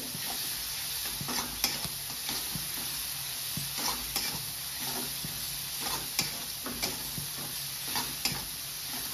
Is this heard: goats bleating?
no